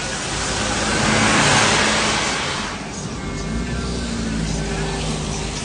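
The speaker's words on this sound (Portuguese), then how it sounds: "o ônibus do menino, indo-se embora" A bus pulls away at the São João festival in Campina Grande, its engine roar swelling into a loud rush of road noise and then easing to a steady hum, with crowd noise around it.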